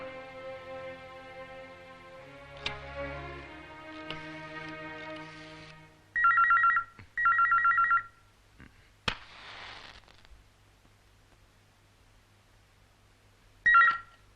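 A telephone rings in a Malayalam movie scene, several bursts of electronic ringing with gaps between them over quiet background music and a few sharp knocks, no speech.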